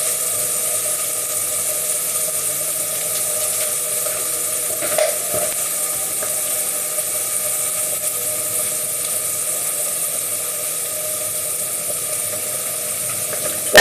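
Risotto cooks in a pan with a soft, continuous sizzle and a steady low hum under it. A single clatter comes near the middle, and nobody speaks.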